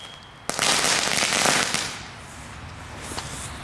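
Leftover fireworks go off outdoors in a sudden loud burst of dense crackling. The crackle holds for over a second, then fades into a lingering hiss with a few scattered pops.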